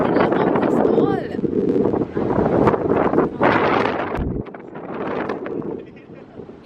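Strong wind buffeting a microphone on desert sand dunes beside an inland sea in Qatar, with loud gusty rumble that surges and eases, and people talking over it.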